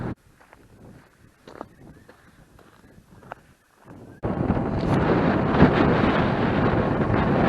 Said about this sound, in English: And the wind's keeping the sweat off me.